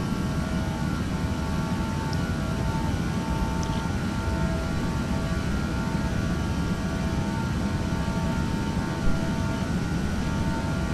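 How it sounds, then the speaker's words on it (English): In Flight Simulator X, an airliner's jet engines sit at takeoff power on the runway at Kuching, giving a steady, loud, broadband roar that holds evenly for the whole stretch with no voices. "And takeoff power set."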